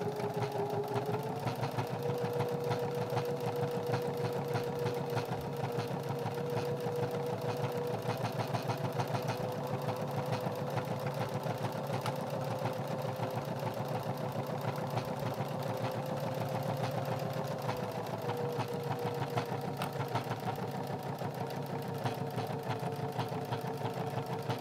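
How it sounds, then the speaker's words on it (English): A home sewing machine runs steadily for the whole stretch, stitching fabric end to end for a beginner Christmas ornament made from a shower curtain ring, a continuous mid-pitched motor hum with no talk. "we're stitching all the way from one end to the other"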